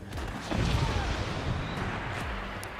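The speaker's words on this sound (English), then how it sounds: "For now, it is just a swarm missile." Swarm missiles landing in the Forts RTS game, a rapid cluster of muffled thuds and small blasts over a steady rumble with faint talk under it.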